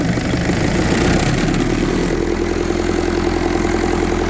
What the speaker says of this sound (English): You get a 700 RPM that shakes the hood, shakes the whole body, shakes everything kind of a decent amount